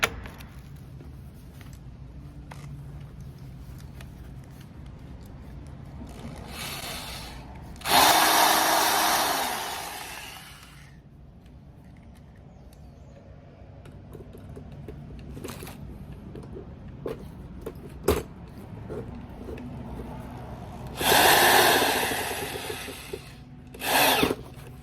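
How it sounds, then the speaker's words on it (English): Pressure washer surface cleaner fitted with wheels moving over the ground, two loud hissing spray bursts of a few seconds each over a quieter background of rolling and scraping. "moving this surface cleaner around"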